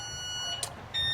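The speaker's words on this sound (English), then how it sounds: "That's our alarm" A room alarm gives a high electronic beep, a short chirp and then a steady tone starting near the end, over a low continuous background hum.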